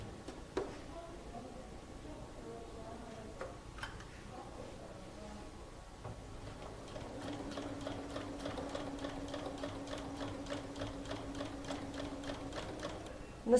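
A sewing machine stitches a facing onto denim pocket lining, starting with a few scattered clicks and handling noises, then running in a steady, fast, rhythmic whir of stitches for several seconds.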